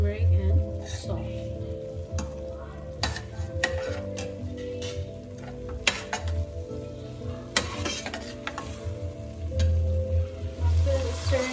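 Chili, turmeric and salt stirred in a pan for stuffed bell pepper qeema, giving a steady low sizzle with repeated spoon scrapes and ticks against the pan, fairly loud and close.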